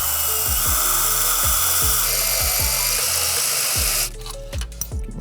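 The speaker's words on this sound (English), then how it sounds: "Drill straight through the tubing all the way to the other side," A power drill whines close by, revving in short repeated bursts as it bores through metal tubing on a gutter machine workstation, then cuts off near the end.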